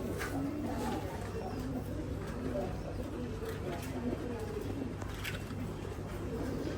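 Pigeons at a pigeon farm coo repeatedly in soft, overlapping low calls, some near and some farther off, over steady background hum and faint human voices.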